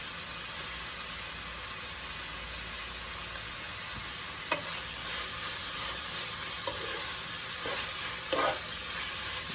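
A sauce for cabbage sizzles steadily in a hot pan with a broad frying hiss, and a spoon scrapes and stirs through it a few times.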